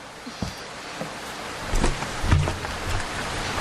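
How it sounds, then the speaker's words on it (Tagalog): Rain falls steadily as a sound effect in a Filipino audio drama, a constant hiss with a few soft thumps and swells, and no voices. "naabutan pa rin ako ng ulan"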